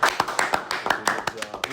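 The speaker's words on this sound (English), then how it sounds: "a round of applause" Applause at a men's basketball postgame press conference: a small group clapping in a quick, fairly regular rhythm of distinct close claps, briefly and alone.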